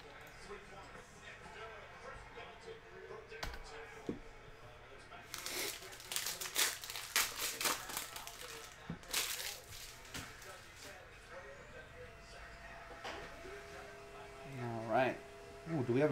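A 2021 Mosaic baseball hobby pack being ripped open, with crinkling, tearing foil wrapper bursts of moderate loudness near the middle, set against background chatter and voices.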